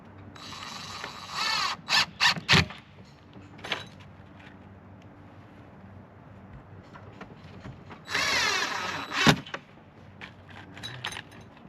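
Cordless driver with a magnetic Phillips bit sinking screws into an RTA bathroom vanity cabinet for a manufactured home, two close clusters of short whirring bursts and ratcheting pulses, separated by quieter handling knocks, no talking.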